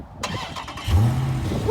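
A 2018 Dodge Challenger R/T Scat Pack with its 6.4-liter 392 V8 cranks briefly, then catches and settles into a loud, steady, low rumble close by.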